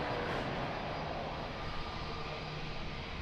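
Aircraft at Lisbon Airport, a steady distant roar of jet engines droning evenly throughout, with a low rumble and no clear voices.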